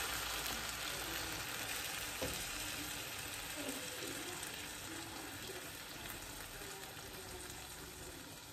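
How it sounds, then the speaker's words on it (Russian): Boiled water pours steadily into a pot of potatoes for an Armenian soup, a continuous close rushing gush that fills the whole stretch without pause. "Заливаем водой. У меня вода кипяченая."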